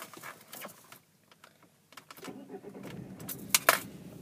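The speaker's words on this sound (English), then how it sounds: "starting the vehicle, it is a little bit rattly" Car with some body damage being started, keys jangling first, then the engine cranks and catches about halfway through into a slightly rattly idle, close and fairly quiet.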